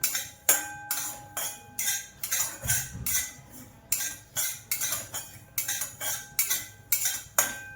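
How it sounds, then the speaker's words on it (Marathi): Poppy seeds are dry-roasted on a hot tawa, with a spatula striking and scraping the iron surface in a quick, regular series of sharp metallic clinks, close and clear with no talk. "आता ही खसखस मी तवा गरम केलेला होता, याच्यात भाजून घेणार आहे"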